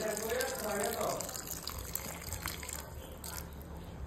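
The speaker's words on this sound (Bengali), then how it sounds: "একটু জল দিয়া দিব" Water being poured into a cooking pot, a steady running splash and trickle of liquid that continues throughout at moderate loudness.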